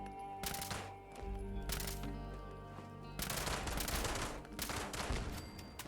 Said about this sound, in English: But there's a turret there. Machine gun turret.